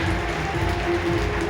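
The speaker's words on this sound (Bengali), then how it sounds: "কিচ্ছু বলা যাচ্ছে না, মুষলধারে বৃষ্টি হচ্ছে।" Heavy monsoon-style downpour on a trip to North Sikkim, a dense, even hiss of rain with no breaks and a faint low hum beneath it.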